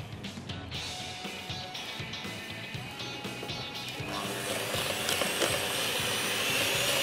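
An electric beater mixes eggs for a vanilla cake batter, giving a continuous buzzing whir with a rattling scrape in the bowl that grows louder and brighter as the speed is raised.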